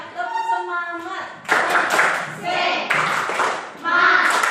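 Fifth-grade schoolchildren perform a rhythmic class clap routine, with bursts of patterned clapping alternating with their chanted voices in a repeating call-and-response cycle.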